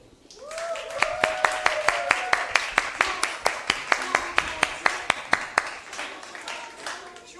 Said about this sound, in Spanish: Quiero que lo reciban con un fortísimo aplauso a Juanes Cuentero.